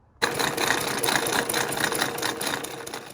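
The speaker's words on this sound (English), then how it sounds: "I just sew a zigzag down this edge right here, like this." A sewing machine stitches a zigzag edge along fabric for a tie mask, its rapid needle chatter starting abruptly and running steadily and close, with no talking.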